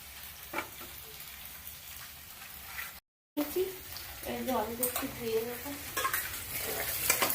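Fish curry fries and is stirred in a pan, a close, crackling sizzle with scraping strokes, briefly cut off, then resuming under a voice.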